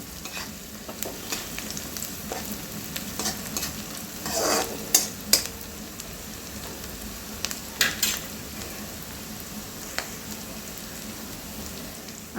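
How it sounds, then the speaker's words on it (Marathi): Spinach with red chilli pieces sautéing in a pan for an aloo palak dish, a steady close sizzle with occasional scraping stirs and brief spatula clicks, no voices. "आता हे मी दोन तीन मिनटं छान परतवलेलं आहे"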